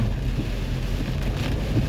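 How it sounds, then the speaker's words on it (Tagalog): Dense, steady downpour in Baguio City hissing continuously with a low rumbling undertone, loud and close with no pauses. "patindi ng patindi ang ulan"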